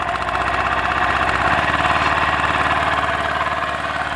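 Honda two-stroke engine on an 800 W power generator running close by, a loud, steady, buzzing idle with a fast regular pulse and no pauses.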